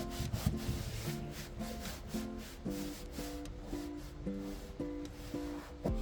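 Kitchen roll rubs and wipes over leaked fuel on a petrol generator that will not start, giving soft repeated scrubbing strokes in an even rhythm, close by and fairly quiet, with no talking.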